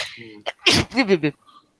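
A single sharp sneeze bursts out, followed by a brief voice, close to the microphone.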